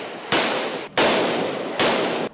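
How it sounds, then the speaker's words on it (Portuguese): Police fire gunshots at night in Tijuca, in Rio's north zone, while testing gunshot detection sensors. There are three loud, sharp blasts, each followed by a long, ringing echo off the surrounding streets. "Os tiros disparados pela polícia durante a madrugada assustaram quem passava pela Tijuca, na zona norte do Rio."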